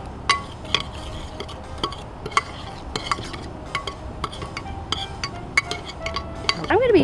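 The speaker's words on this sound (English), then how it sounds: "We're going to stir everything up." Fudge ingredients get stirred in a Pyrex glass bowl outdoors, with a spoon clinking against the glass in irregular sharp taps and scrapes, close and fairly quiet, over a low background.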